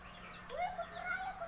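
A sparrow chirps faintly outdoors, a few thin, rising notes over a low, steady background hum.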